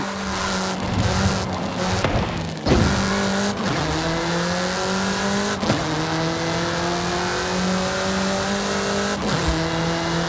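A car in the racing video game Forza Horizon 5 accelerates hard, its engine note climbing steadily through each gear before dropping at several quick shifts, loud and continuous up close, without talking.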